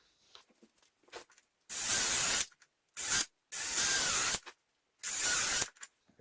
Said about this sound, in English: Now I'm going to go on to these side lugs here.